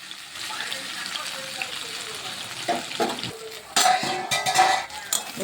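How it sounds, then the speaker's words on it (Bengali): Papaya vegetables being stir-fried in a pan, with a spatula stirring and scraping against the metal and occasional clinks over a soft sizzle; the scraping bursts grow louder toward the end. "এরকমভাবে একটু ভাজা ভাজা করে নিচ্ছি সবজিটা"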